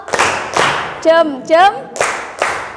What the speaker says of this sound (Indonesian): Ayo dikasih apresiasi dulu ya, pakai tepuk jempol ya.